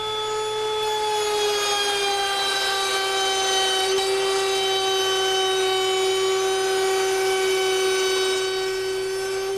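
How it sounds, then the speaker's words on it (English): Hand router cutting through rabbets in wooden boards for joinery, a steady, loud high-pitched motor whine with a continuous cutting rasp, held evenly for the whole stretch. "Now I'll make the through rabbets."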